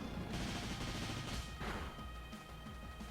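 A Flamethrower attack in the Pokemon Moon battle, a dense roaring burst of crashing effect noise filling the whole short moment, loud and continuous with no voice over it.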